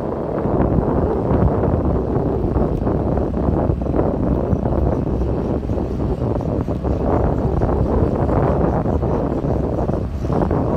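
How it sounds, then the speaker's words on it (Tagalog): Steady wind on an island roars and buffets against the microphone, a continuous low rumbling gust with no pauses. "Kaya mahangin."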